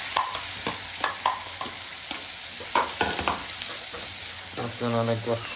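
Onions frying in a pan with mustard seeds, asafoetida and cumin for a milk-based curry sizzle softly while being stirred, with occasional scrapes and clicks and faint voices in the background.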